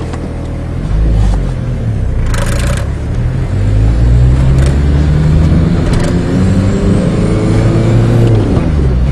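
A diesel Dodge Caravan's turbocharged engine under way, with a loud, close drone rising in pitch through acceleration and shifts and a faint turbo whine above the steady rumble, and no talking.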